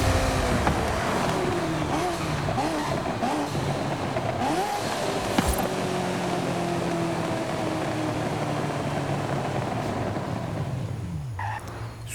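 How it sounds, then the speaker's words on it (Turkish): A high-revving Ferrari engine in Forza Horizon 5 screams continuously, pitch climbing and dropping through gear changes, loud and steady with no voices. "İşte şimdi bir Ferrari'ye yakışır bir ses var abi bu oyunda"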